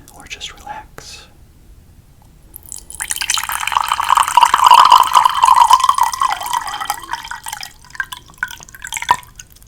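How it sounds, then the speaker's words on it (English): Chamomile tea pours in a close, bright liquid stream for several seconds after a quiet start, then trails off into scattered drips and small splashes, with soft whispering around it. "So I do have a beverage. Chamomile tea."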